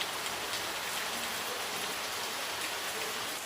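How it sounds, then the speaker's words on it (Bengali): Heavy rain pours onto the roof of a household prayer room, a dense, constant hiss of drops drumming steadily without pause and no one speaking. "সমানে বৃষ্টি হচ্ছে, সমানে"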